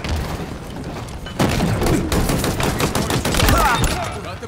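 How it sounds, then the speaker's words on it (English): Rapid gunfire and explosive booms from a Halo Infinite multiplayer match, dense bursts of shots layered with thuds, loud and continuous through most of the span with little talk. "In a hail of gunfire."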